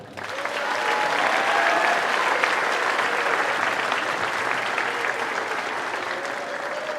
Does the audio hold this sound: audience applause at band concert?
yes